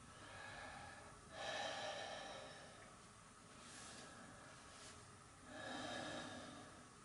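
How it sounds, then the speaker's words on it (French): Chitkari breathing exercise, inhaling through the teeth, heard as three faint, close hissing breaths spaced a couple of seconds apart in a quiet room. "On va venir appuyer le bout de la langue à la racine des dents de manière à former un tuyau mais dans l'autre sens. Et on va faire une dizaine de respirations."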